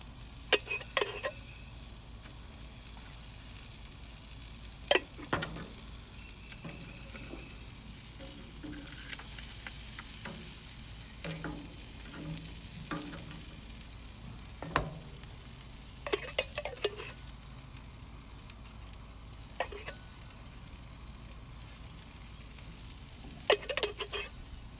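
Jerk lobster tails sizzle steadily on a grill while being basted with butter, a continuous crackling hiss broken by sharp pops and occasional clicks of tools.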